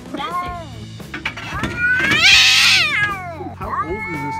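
An angry cat lets out drawn-out, wavering yowls and meows with a growling, caterwauling edge, loud and close, swelling into a harsh hissy peak midway before tapering off.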